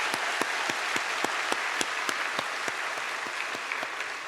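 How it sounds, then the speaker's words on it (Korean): A church congregation applauds during a Sunday service, a continuous wash of clapping with distinct sharper claps standing out in a loose rhythm. "다시 한 번 더 큰 박수로"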